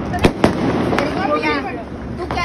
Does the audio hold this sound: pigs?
no